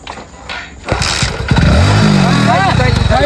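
A motorcycle is kick-started with a few scuffs and thumps before its engine catches and settles into a loud, steady idle close by, while people talk over it.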